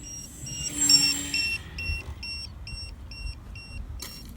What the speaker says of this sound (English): Maybe I'll change these buzzers out.